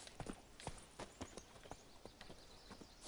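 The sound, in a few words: horse in video game The Witcher 3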